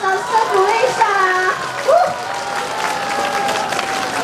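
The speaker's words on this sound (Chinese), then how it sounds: "掌声鼓励一下啊" Audience applause rings out at an outdoor food festival in Tainan, a broad steady clapping that swells and lingers under a lively crowd with voices and children's chatter mixed in.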